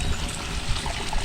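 Water pours and trickles steadily into a concrete fish pond holding African catfish during a water change, a close, continuous splashing wash with no voices.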